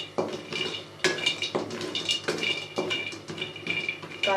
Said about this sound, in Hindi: कढ़ाई हमने चूल्हे पर रख दी है, आग हमने जला दी है, और अब हम इसमें काजू डाल देंगे और इसको रोस्ट कर लेंगे